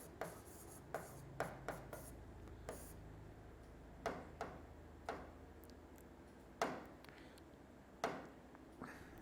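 Chalk or marker tapping and scratching on a classroom board during a physics lesson, a quiet series of sharp taps and short strokes at irregular intervals, close by with low background hiss and no talk.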